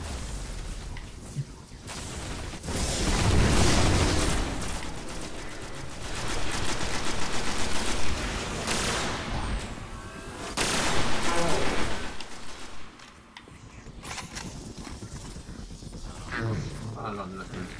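Gunfire in the Destiny video game as players shoot the armor off a large boss's legs: sustained bursts of rapid shots with explosive booms, loud throughout, while people talk over the fighting.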